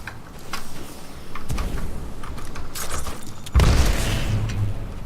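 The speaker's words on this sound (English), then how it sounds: "Those are basically contact grenades." Contact grenades going off in the Titanfall 2 tutorial: a sharp, loud blast near the middle followed by a heavier, booming explosion toward the end, with scattered clicks and game ambience between.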